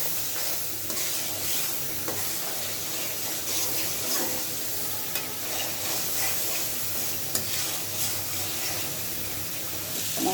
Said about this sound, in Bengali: এখন আমি খুব ভালোভাবে মশলাটা কষিয়ে নিচ্ছি।